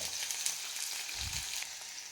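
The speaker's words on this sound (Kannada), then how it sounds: "ಈರುಳ್ಳಿ ಸ್ವಲ್ಪ ಸಾಫ್ಟಾಗಿ ಅದರ ಒಂದು ಘಮ ಬರೋ ತನಕ ನಾವು ಹುರ್ಕೊಬೇಕಾಗುತ್ತೆ" Onions fry in a pan, a steady close sizzle with a soft stirring rumble partway through and no voices.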